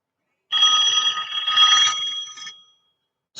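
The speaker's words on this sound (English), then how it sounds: "At this point, I got a phone call to take." A telephone rings in a long, bright electronic trill lasting about two seconds, then stops, and a second ring starts just as the sound cuts off.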